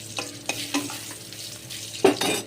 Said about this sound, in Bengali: এখন দুটো শুকনো লঙ্কা ফোড়নে দিয়ে দেবো